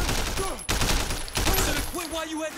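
Gunfire from the Sleeping Dogs video game rings out as shots hit an enemy, a few sharp bursts in quick succession with a voice speaking between and over them.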